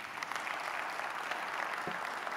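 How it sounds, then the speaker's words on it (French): A conference audience at a Big Data Paris panel applauds in steady, dense clapping, moderately distant, with no voices over it. "Je pense qu'on peut les applaudir."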